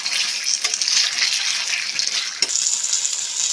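A little water poured into spiced cabbage curry in a pan, a steady close splashing hiss that runs unbroken from start to finish, with one brief dip partway through.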